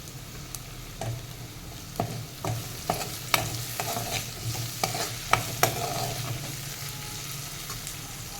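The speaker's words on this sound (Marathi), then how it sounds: "आता ही शिमला मिरची घालूया ती पण दोन एक मिनटं परतून घेऊयात" Capsicum sautéing in a pan for jowar khichdi, with a steady soft sizzle under repeated sharp scrapes and taps of a spatula stirring, close and fairly quiet.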